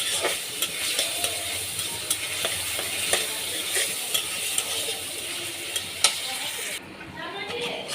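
Rohu fish curry sizzles steadily in a pan on a lowered flame while a utensil scrapes and stirs it in repeated strokes, with faint chatter in the background.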